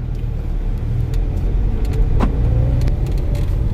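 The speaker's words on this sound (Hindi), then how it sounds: "वॉक्सवैगन एमियो गाड़ी में चला रहा हूं।" A Volkswagen Ameo car being driven, heard from inside as a steady, loud low engine and road rumble that continues throughout with no talking.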